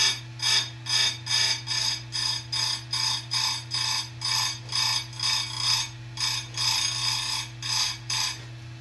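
A grinder works the teeth of a square chisel saw chain in quick, evenly spaced light passes, each a short bright rasp repeating steadily and close up over a constant motor hum, with no talking.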